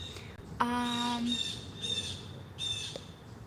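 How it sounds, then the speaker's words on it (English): Bird calls ring out in the open air, a squawk followed by thin whistling chirps repeating at intervals, moderately close against a quiet background. "You could hear the birds in the background."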